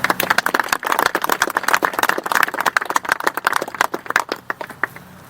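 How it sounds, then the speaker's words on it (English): An audience gives a round of applause to welcome the McMenemy family, a dense, steady clapping from a crowd that thins out toward the end. "I'd like us to welcome the McMenemys with a round of applause"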